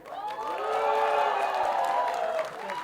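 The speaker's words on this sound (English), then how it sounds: "तालियां" A crowd applauds at a film trailer launch for De De Pyaar De 2, a steady wash of clapping and cheering that swells and holds, with some tonal sound running underneath.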